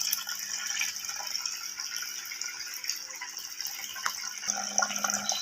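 A Kolin KCB-BLC-8859T coffee tea bar water dispenser fills a large glass, giving a soft, steady trickle and hiss that runs close and continuous and stays fairly quiet throughout.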